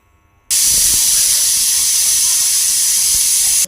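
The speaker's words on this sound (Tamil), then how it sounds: "இப்போ குக்கர் மூடி போட்டு 6 விசில் விட்டு எடுத்துக்கலாம்." Pressure cooker whistle on a cooker of mutton curry, a sudden loud continuous hiss of escaping steam that starts abruptly and holds steady for about three seconds before cutting off.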